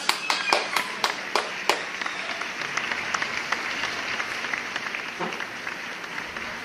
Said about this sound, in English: Please give a round of applause for Mika Buna.